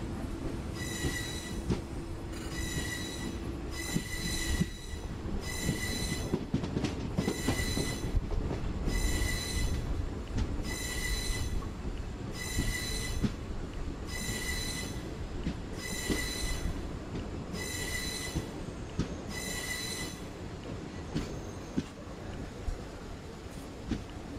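An Indian express passenger train (Kaveri Express, Mysuru to Chennai) rolls over a track changeover, with repeated high-pitched wheel squeals in regular bursts over a continuous heavy rumble of wagons, close and loud.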